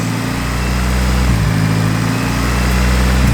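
A loud, close turbocharged car engine idles roughly after stalling and restarting, with a low, droning hum that wavers and stumbles slightly, running unevenly without stopping.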